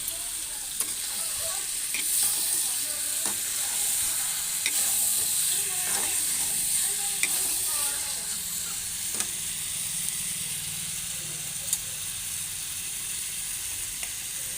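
Broiler chicken pieces tip into a hot pan of oil with ground cumin and sizzle steadily, with scattered light clicks and scrapes of stirring over a constant frying hiss.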